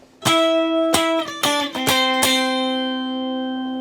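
Plucked acoustic guitar octave chords from a rendition of a song, about five strummed shapes stepping in sequence, close and clear, the last one left ringing out.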